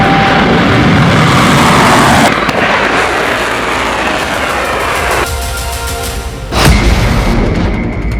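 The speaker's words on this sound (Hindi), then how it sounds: "जब दोनों हथियार नाकाम हो गए तो इसके बाद इजराइल पर सबसे खतरनाक मिसाइल लॉन्च" Missile launch and explosion: a loud, continuous roaring blast fills the clip, with a sharp boom near the end that swells the rumble before it carries on, no voices heard.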